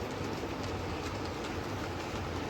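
Model railway freight train running on the outer loop of a layout, a continuous close rumble and faint rhythmic clicking of wheels over track with no talking.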